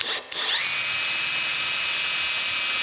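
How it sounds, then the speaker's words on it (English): A power drill spins a small lapping jig on a steam locomotive throttle valve, starting up with a rising whine and then holding a loud, steady high-pitched drone throughout. "he sent along this little jig that we're gonna put in a drill"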